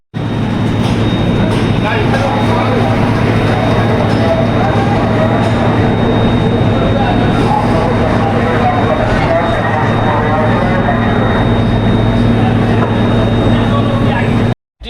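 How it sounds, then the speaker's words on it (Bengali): Rajdhani Express train pulling out of Sealdah, a steady loud rumble and low mechanical hum filling the whole stretch, heard from on board with faint voices in the background. "সব বন্ধুরা ট্রেন ছেড়ে দিয়েছে শিয়ালদা থেকে"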